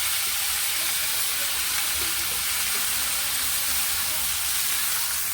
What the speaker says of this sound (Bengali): এবারে শাকগুলো দিয়ে দিচ্ছি।